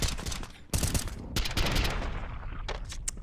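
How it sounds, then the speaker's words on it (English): A quick three-round burst of rifle fire rings out in a Counter-Strike match, sharp close shots followed by echoing reports and more gunfire in the scene, with no talking over it. "Little 3-bullet burst catches the headshot"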